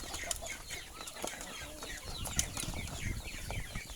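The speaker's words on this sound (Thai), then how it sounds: "วันนี้เราจะมาพามาเบิ่งเป็ดไก่ในฟาร์มของเรา" Chickens on a duck and chicken farm cluck in short, repeated bursts with occasional louder squawks. The sound is close and moderate over a soft farmyard background, with no talking.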